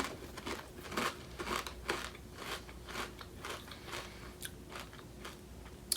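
Miss Vickies sweet and spicy ketchup potato chips being chewed close up, a steady run of crisp crunchy bites repeating for several seconds with no talking.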